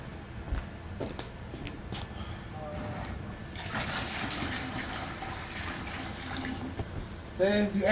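Cold water is poured into a homemade DIY CO2 mixture, a continuous close splashing and filling sound, with a few clanks and clicks near the start.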